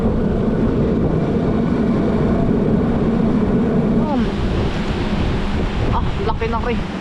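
Typhoon wind and heavy rain lashing a rural farm hut, a loud continuous roaring rush with gusting noise throughout, and a voice briefly heard near the end.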